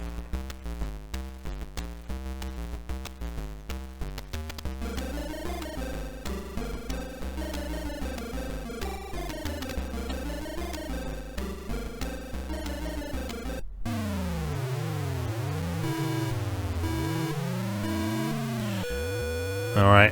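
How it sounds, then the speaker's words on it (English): A synthetic, buzzy engine from the Atari ST racing game Lotus Esprit Turbo Challenge whines and warbles, its pitch repeatedly sweeping up and down as it revs, steady and electronic with no talking. "here we go with that lovely engine sound"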